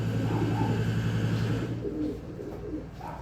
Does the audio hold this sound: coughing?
no